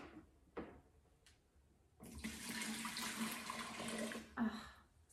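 Apple cider poured into a pumpkin keg, a steady splashing, gurgling stream running for a couple of seconds at close range after a few light knocks, then a brief final splash.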